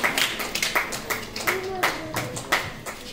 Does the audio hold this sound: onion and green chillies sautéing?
no